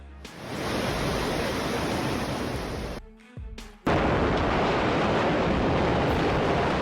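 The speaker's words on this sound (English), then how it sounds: "Torrential rain turned a parking lot into an accidental water resort for dozens of cars." A loud, steady roar of torrential rain pouring down and flooding a parking lot full of cars, briefly dipping for a moment before surging back at full force.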